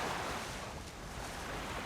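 Rushing river current on the Nipigon while fishing for brook trout from the bank, a steady broadband wash of moving water with some wind buffeting, continuous and fairly loud, no voices.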